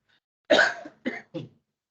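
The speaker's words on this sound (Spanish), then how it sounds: "Perdón, pero hoy tengo la tos fatal." One harsh cough followed by two shorter ones in quick succession, close to the microphone and otherwise silent.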